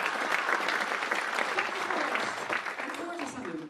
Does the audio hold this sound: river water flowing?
no